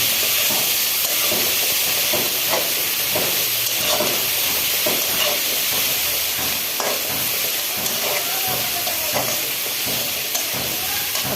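Chilli powder, turmeric and spices frying in a pan, a loud continuous sizzle and hiss with occasional stirring scrapes, steady throughout.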